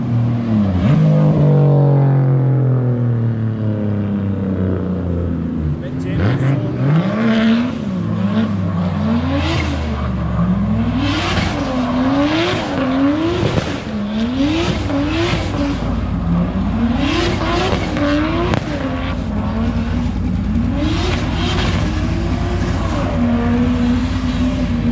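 A 2JZ-powered Nissan S14 revs hard and drifts, its engine note climbing and bouncing in quick repeated rev cycles with loud tire and exhaust roar throughout, heard up close from inside the car.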